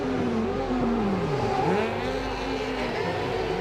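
A rallycross car at Estering shifts down through the gears into a hairpin, its engine note falling and then jumping with quick throttle blips, loud and close with steady engine drone underneath.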